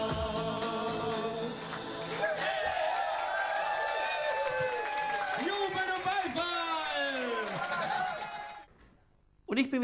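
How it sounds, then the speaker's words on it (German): A Schlager hit-parade audience cheers and applauds loudly and continuously, with whoops and shouting voices over dense clapping, then the noise drops away sharply near the end. "Jubel und Beifall!"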